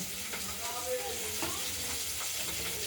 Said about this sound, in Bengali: পাবদা মাছ ভাজা হচ্ছে